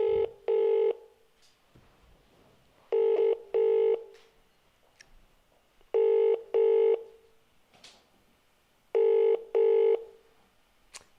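A phone call rings out from a car's hands-free system in a Volkswagen Touareg, with four evenly spaced double ring tones, loud and clear over a quiet cabin.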